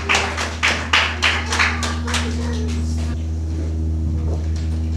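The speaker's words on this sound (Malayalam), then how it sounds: "Okay, clap clap clap." A family group claps at a reunion gathering, several clear bursts of applause in the first two seconds fading into a steady low hum.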